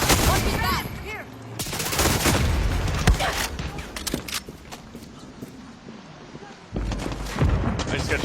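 Dense gunfire from the Far Cry 6 video game: rapid fusillades and heavy booming shots crackle almost continuously, loud and close, with a brief lull near the end before another burst.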